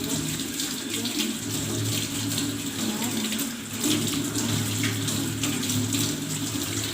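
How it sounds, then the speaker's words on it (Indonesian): Tap water runs steadily into a sink as hands are washed through the six-step handwashing routine, a continuous close splashing hiss with no talk. "Mencuci tangan 6 langkah."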